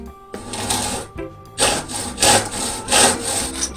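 Pieces of aluminum window screen frame are sawn while clamped to a table edge, with close, loud rasping back-and-forth strokes in a steady rhythm of about three to four pushes.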